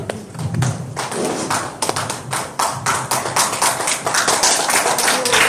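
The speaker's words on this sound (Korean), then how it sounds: "박수로 청해 주시기 바랍니다" Audience applause at a Korean national Founding Day celebration and award ceremony, welcoming a poetry reciter to the stage: dense, steady clapping from a crowd, fairly close and continuous throughout with scattered sharper claps.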